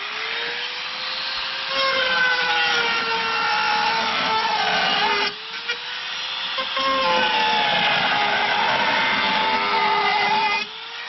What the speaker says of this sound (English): I'm just using a Dremel with a carbide burr